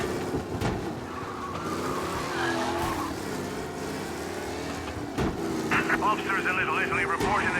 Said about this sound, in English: Be alert for a race car out on the roads tonight.